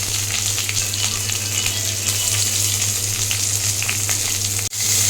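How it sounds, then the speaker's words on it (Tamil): Chopped small onions (shallots) with whole chillies sauté in a hot pan for sambar, giving a loud, steady sizzle that cuts out briefly near the end. "வெங்காயம் வதங்குற அளவுக்கு ஒரு நிமிஷம் சாட் பண்ணிவிட்டு"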